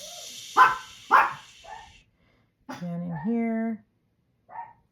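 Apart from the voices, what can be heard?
dogs barking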